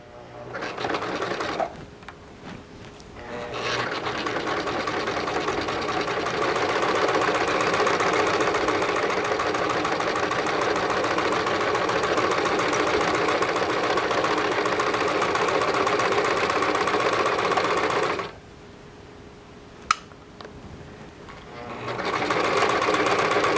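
A sewing machine stitches a princess-seamed western show jacket at a slow, steady pace. It hums continuously for about fifteen seconds, stops briefly with a single click, then starts running again.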